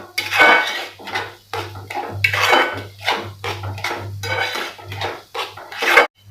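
Mustard seeds and dal stirred and roasted in a pan for traditional raw mango pickle, with repeated scraping clinks of a spoon against the metal pan over a steady low hum, no talk.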